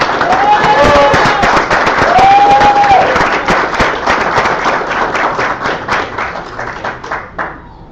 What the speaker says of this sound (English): I think these gentlemen deserve tremendous applause.